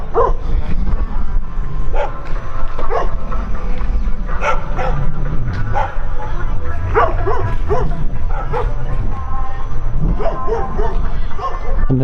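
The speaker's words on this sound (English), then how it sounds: "There's packs of wild dogs running around" A pack of wild dogs barks outdoors, a mix of repeated yips, bow-wows and whimpers from several animals near and farther off, with steady background noise and music underneath.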